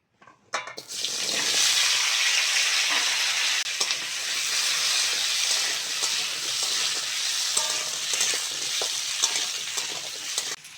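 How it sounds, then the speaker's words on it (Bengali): Potato and eggplant pieces fry in oil left over from frying amudi fish, a loud, dense, continuous sizzle that starts abruptly and holds steady, with faint stirring scrapes breaking through. "মাছ ভাজার তেলে আলু আর বেগুনটা ভেজে নেব"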